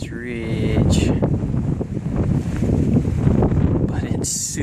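Strong wind roars across a mountain ridge trail, buffeting the microphone in a loud, continuous low rush with gusts, while a person talks through it.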